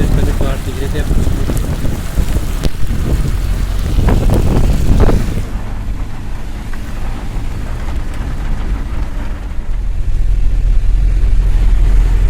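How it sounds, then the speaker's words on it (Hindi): A very heavy downpour lashes down over deep water with gusts of wind buffeting the microphone, a dense steady hiss that thins slightly midway before swelling again. "बारिश लगी हुई है बहुत तेज"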